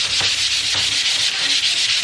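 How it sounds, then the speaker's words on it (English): Steady, close rasping of 120-grit sandpaper scuff sanding wood furniture back and forth in quick repeated strokes, with no voices. "literally it's just 120 grit, and I'm just scuff sanding it"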